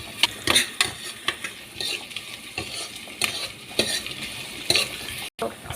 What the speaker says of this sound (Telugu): ఉల్లిపాయలు గోల్డెన్ బ్రౌన్ వచ్చే వరకు కలుపుకోవాలి